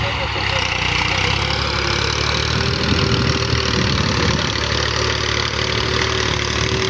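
A 2010 Massey Ferguson 240 tractor engine idling, hitched to a nine-tine cultivator: a loud, steady, close diesel rumble with a constant mechanical drone and no revving.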